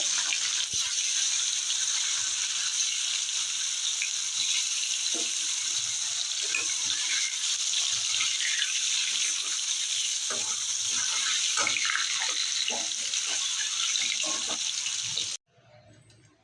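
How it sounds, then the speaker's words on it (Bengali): Paneer and mushroom frying in white oil in a kadai make a loud, continuous crackling sizzle with occasional stirring clinks, close up and without talk, cutting off near the end. "পনির আর মাশরুমটা ভেজে নেবো"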